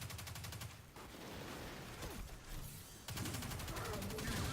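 Rapid automatic weapon fire in Destiny 2 crackles in close, dense bursts at the start and again near the end. A quieter stretch in between carries some voice.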